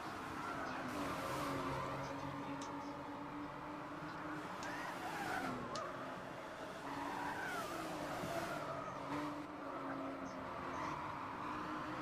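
Race cars on worn tires in the video game Gran Turismo 6, engines droning steadily with intermittent tire squeals, fairly faint under occasional voices.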